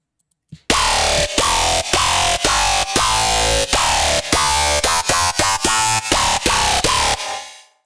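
A loud, aggressive dubstep synth riff made in the GMS synthesizer, with punchy bass hits and pitch-sweeping wobbles, fast rhythmic stabs repeating for several seconds, ending in a short fade.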